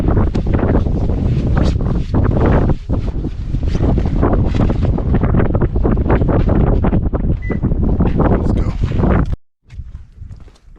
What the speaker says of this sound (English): it sounds like it's starting to get a little bit windy